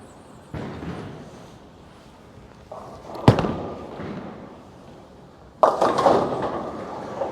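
A 900 Global Reality bowling ball delivered down a lane: a thud at release, a rolling rumble, then a louder crash of pins near the end, heard alone in an echoing alley.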